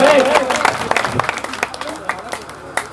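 Villagers at a gathering break into scattered applause to welcome a guest being garlanded, with bursts of clapping under a speaking voice and crowd murmur.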